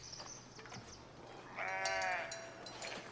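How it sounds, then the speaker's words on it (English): A sheep bleats once in a medieval city builder game, a harmonic wavering call lasting about a second over a quiet, steady game ambience. "Yes, our little sheep."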